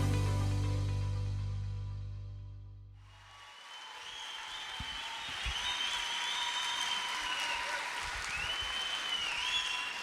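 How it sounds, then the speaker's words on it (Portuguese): A church audience bursts into loud, dense applause that swells and carries on for several seconds after a sustained musical chord fades out, with clapping filling the room and no talk over it. "Recebam com muito carinho e forte aplauso Pastor Hernani Santos."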